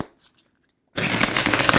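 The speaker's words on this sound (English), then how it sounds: "I am going to give this deck a shuffle or two." A Rider-Waite tarot deck is riffle-shuffled in one quick, crisp burst of fluttering cards after a brief moment of quiet, close to the microphone.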